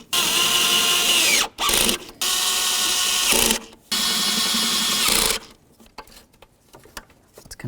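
Power tool snugging intake damper bolts on a 2007-2017 Ford Expedition engine: several loud, sustained whirring bursts of a few seconds each, separated by brief pauses, then quieter scattered ratcheting clicks and handling noises.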